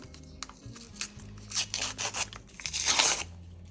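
Paper surprise packet with Harry Potter Kinder-style stickers being torn open and unwrapped, close crinkling and ripping in several bursts, loudest near the end, with no talking.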